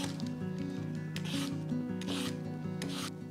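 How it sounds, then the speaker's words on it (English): A Y-shaped peeler scraping down sweet potatoes, steady close rasping strokes repeating every second or so over a soft music bed. "Easiest way to peel a sweet potato is with one of these Y-shaped peelers."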